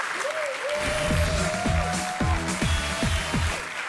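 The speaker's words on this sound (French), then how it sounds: "Applaudissements pour lui." Studio audience applause on a French television talk show, loud and steady for the whole stretch, with a sustained tone and rhythmic music-like hits running underneath.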